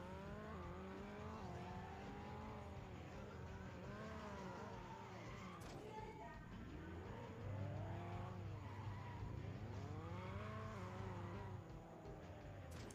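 Car drifting in the Extreme Car Driving Simulator video game, with steady engine drone and long rising and falling tire squeals as the wheels skid, loud and continuous without talk.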